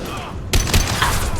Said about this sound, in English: Firing now.